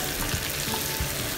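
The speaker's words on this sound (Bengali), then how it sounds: "তো আমি চেষ্টা করতেছি মাংসটা ভাজা ভাজা করার জন্য।" Meat frying in a pan gives a dense, continuous sizzle and hiss, close and steady, with no talk over it.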